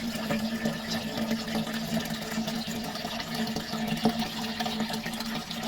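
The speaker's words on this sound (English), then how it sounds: "So add the water and blend" Water running and splashing into a blender jar holding soybeans for soy milk, a steady gurgling pour with faint hum, moderately quiet and continuous, no voices.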